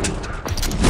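Gunfire in the video game Fortnite: a loud burst of broadband cracks and a booming low thump close by, with a heavier hit near the end, no talk.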